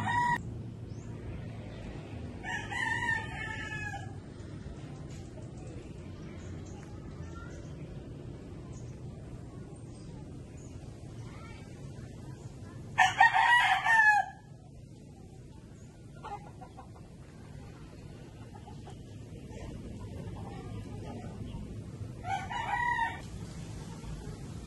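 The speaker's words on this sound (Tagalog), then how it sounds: "Daming manok, no?" Roosters, fighting cocks kept at an old Chinese cemetery in Guagua, Pampanga, crow several times, one loud and close and others farther off, over a soft outdoor murmur.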